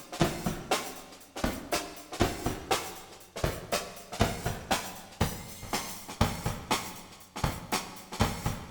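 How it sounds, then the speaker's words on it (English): Drum loop pitch-shifted up seven semitones through the Airwindows PitchNasty plugin, a steady rhythmic pattern of punchy hits with a gritty, scrunchy overtone, played alone and fairly loud. "For instance, here is it at a pitch shift of 7."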